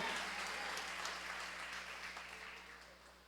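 A church congregation at a morning service applauds in a soft, distant wash of clapping that gradually fades.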